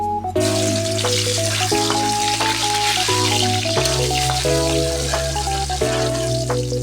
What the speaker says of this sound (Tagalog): Salang na natin yung bawang.